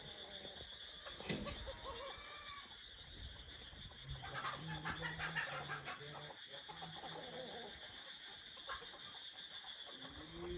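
Hens let out of their coop in the morning on a farm cluck faintly in the background, with short scattered calls under light rustling and occasional voices.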